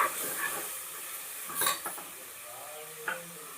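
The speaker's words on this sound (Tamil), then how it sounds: "ஒன்றா சேர்த்து வதக்கிட்டு" Masala for mushroom biryani is stirred and sautéed in a pan. Soft sizzling runs throughout, with a few brief scrapes and clinks of a spoon against the pan, close and quiet.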